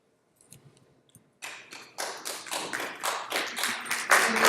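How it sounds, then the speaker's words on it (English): Slow, deliberate clapping from an audience at a corporate summit talk, starting with a few faint taps, then building into steady, evenly spaced claps that grow louder and denser toward the end, with no talking over it. "Slow clap is sarcastic though."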